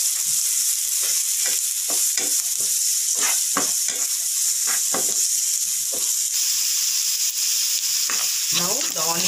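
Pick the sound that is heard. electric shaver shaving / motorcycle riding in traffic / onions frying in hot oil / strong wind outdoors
onions frying in hot oil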